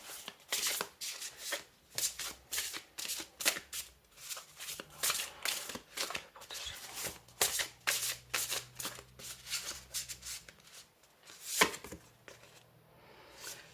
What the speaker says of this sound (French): Alors je vais vous tirer une dernière carte.